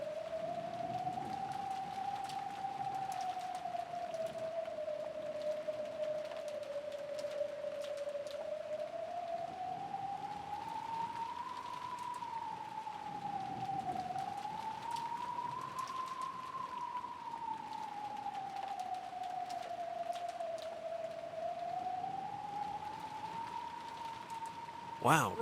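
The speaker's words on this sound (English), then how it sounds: "Look at that, it's really pouring." Steady rain patters continuously, while a faint wavering tone drifts slowly up and down in pitch above it.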